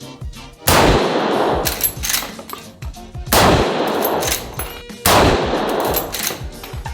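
Gunfire at a sport shooting range: three loud, close shot bursts, each with a sharp crack and long ringing tail, spaced a few seconds apart.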